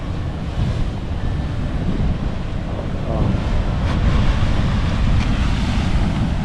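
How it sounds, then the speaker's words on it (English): Ocean waves crash against the rocky, uneven shoreline at Nawiliwili port on Kauai, a loud continuous wash of surf with a swelling surge midway and heavy wind rumble across the microphone. "So when a wave crashes up here,"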